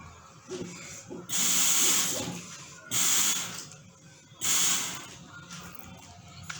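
Air blown into a bottle forcing water to spurt out through inserted straws in a school science demonstration: three strong hissing, sputtering bursts about a second long each, with quieter breathy gaps and faint background voices between.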